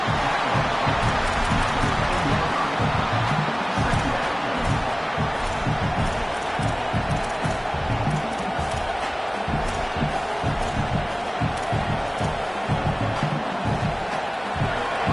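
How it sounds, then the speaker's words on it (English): Roaring football stadium crowd urging the home defense during a red zone stand, a continuous loud wash of cheering and shouting with rhythmic thumps throughout, no single voice standing out. "This crowd is trying to inspire this defense to make a big red zone stop."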